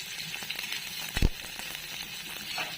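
Onion frying in a pan for a thin brinjal curry, a steady soft sizzle throughout with a brief louder clatter near the middle, no voices.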